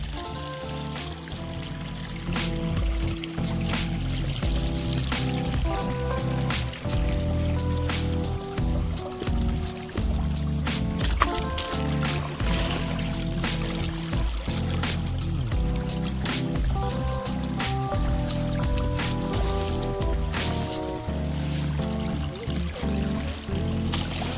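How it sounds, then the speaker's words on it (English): Creek water pours downstream from a pond dam, a steady rushing, splashing flow with trickling detail, heard close and continuous without a break. "We got the water flowing"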